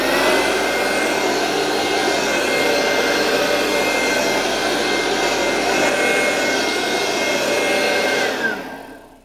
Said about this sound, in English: A handheld vacuum is okay,